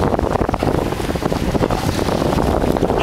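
Sailboat under way in steady wind, single-handed, with a constant loud rush of wind buffeting the microphone over water and hull noise, no voices.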